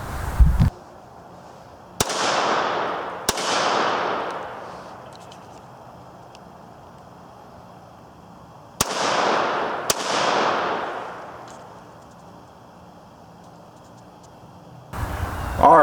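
Sharp, loud cracks from a .22 pistol fitted with a SIG conversion kit, fired at an outdoor range: single shots and close pairs spaced several seconds apart, each trailing off in a long echo.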